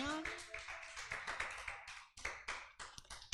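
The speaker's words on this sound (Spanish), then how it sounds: "Dale un fuerte aplauso al Señor." Church congregation clapping loudly together in praise, a dense, close round of hand claps with some irregular rhythm, briefly dipping before resuming, mixed with voices.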